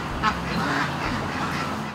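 A Pekin duck gives rough, raspy quacks against a continuous farmyard bed of noise, fairly loud and close, with no talking.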